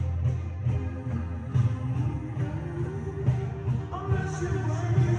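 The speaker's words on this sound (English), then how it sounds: "Here's the chorus effect." A synthesizer line with a chorus effect and fast LFO wobble, played as a demonstration from the production of a track, giving a thick, shimmering tone with rapid warbling modulation throughout.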